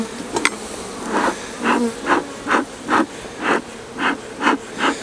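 Honey bees shaken off a hive frame buzz in a steady run of about ten short, rising swells, close and moderately loud over a constant airy hiss, with no voices.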